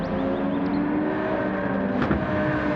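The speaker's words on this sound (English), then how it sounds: "drags that Lamborghini" A Lamborghini race car engine in Gran Turismo 7 at Alsace, droning steadily at high revs with a brief shift in pitch near the end, heard alone.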